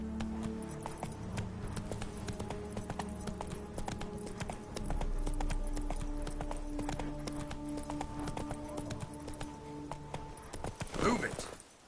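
Hooves of Geralt's horse Roach in The Witcher 3 give a steady, rhythmic clip-clop close by, with a low rumble and a voice speaking now and then.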